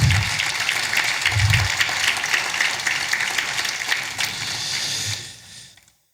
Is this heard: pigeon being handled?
no